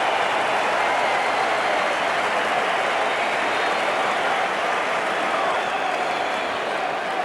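Packed cricket stadium crowd at a 1995-96 World Series one-day match cheering and applauding a boundary, a loud, continuous roar of clapping and shouting that holds steady throughout.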